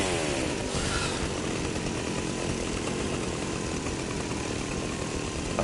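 Fortnite chainsaw in a video game, revving loudly and continuously at close range, a dense droning buzz that holds steady throughout with no voices over it.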